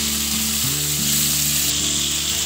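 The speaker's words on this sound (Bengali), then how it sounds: "এবার এখানে দিয়ে দেব 2 কাঁচা লঙ্কা দিয়ে আমি ভালো করে পেঁয়াজগুলোকে ভেজে নেব।" Chopped onions and two green chillies fry in hot oil in a pan beside prawns pushed to one side, giving a steady, close sizzle with a low background hum throughout.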